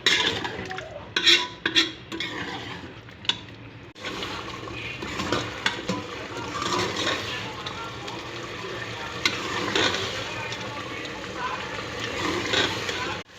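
Masala for tinda gosht being stir-fried in a pan gives a steady close sizzle with repeated spoon scrapes and clinks against the metal. A voice talks over the cooking throughout.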